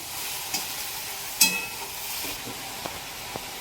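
Lentils and leafy greens being mixed in a cooking pot over a soft, continuous sizzle, with one sharp clink of a spoon and a few lighter taps.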